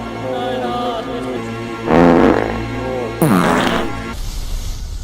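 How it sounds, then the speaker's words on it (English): A fart sound effect, two long, loud, rumbling blasts with a wet, roaring rasp, set against a sustained musical tone and ending in a hissy tail. "I accidentally farted on a candle at our Eyes Wide Shut party"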